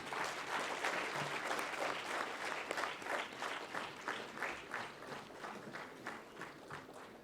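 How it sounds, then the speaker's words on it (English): An audience at a Women's Day celebration claps for several seconds, a crowded patter of hands that settles into a steadier rhythmic beat while slowly fading. "I think we need to give a louder applause"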